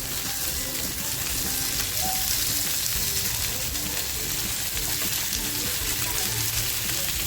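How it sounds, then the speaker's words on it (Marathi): Surmai (kingfish) sizzles steadily in hot oil in a pan, a close, continuous crackling fry with no voices over it. "आपली इकडे मच्छीसुद्धा छान फ्राय होती आहे"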